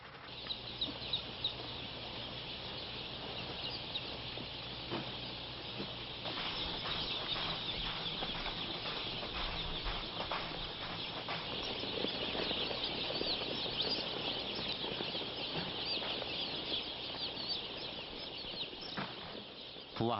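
Dense, continuous chorus of newly hatched chicks peeping at a large poultry farm in Anseong, Gyeonggi Province, tens of thousands of birds filling the space with steady, high-pitched chirping that swells slightly midway.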